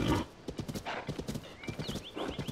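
A horse in a Zelda video game, with rapid clip-clopping hooves and a high neigh rising near the end, close and moderately loud with no speech.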